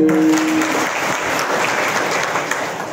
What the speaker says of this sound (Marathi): एकदा यांच्यासाठी टाळ्या होत्या